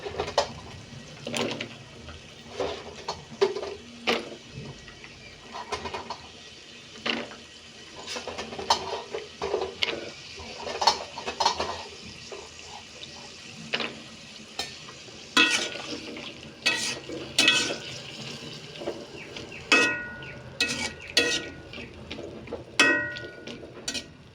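Boiled potatoes and flat beans are stirred in a cooking pot. A spoon scrapes and knocks against the metal in irregular bursts over a soft simmering background, with clinks recurring throughout and no one talking.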